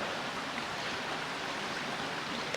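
Water poured into a pan of gravy usually made with milk, giving a steady broadband splashing pour that runs the whole time, close and fairly loud, with no voices over it.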